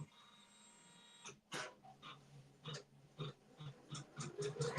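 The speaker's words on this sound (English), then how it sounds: "we're going to go ahead and hit start for the first placement stitch" Janome Memory Craft 550E embroidery machine stitching a placement outline for a mug rug, with a brief mechanical start followed by a run of rapid, irregular needle thumps and clicks, fairly close and moderately loud, no talking.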